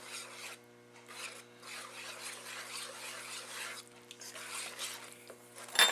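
Breadstick dough ingredients being stirred and mixed in a bowl, a soft continuous scraping and rubbing in close bursts with brief pauses and no talk.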